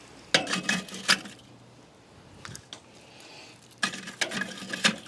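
Burning charcoal is grabbed and dropped into a metal charcoal chimney, giving close, clattering bursts of clinks and scrapes at the start and end, with quieter knocks between.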